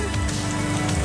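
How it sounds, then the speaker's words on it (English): Steady rain falling outdoors, a dense even patter that stays loud and continuous throughout with no voices. "It's raining."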